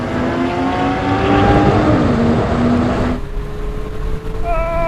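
A Porsche 911 Turbo S Coupe accelerates hard after a kick-down in a rolling race from 50 mph, its engine note rising steadily and loudly, then a gear change and a fresh climb in pitch.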